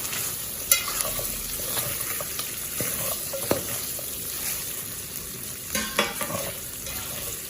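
Pork curry sizzles in a pot while being stirred, a steady close frying hiss broken by scattered clicks and scrapes of the spoon against the pot, with no voices.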